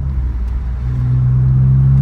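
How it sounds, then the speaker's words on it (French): A BMW 330Ci E46's engine revs up from inside the car, a loud low rumble that climbs into a steady, rising drone over two seconds, with no talking. "il est bourré de coupe ce moteur"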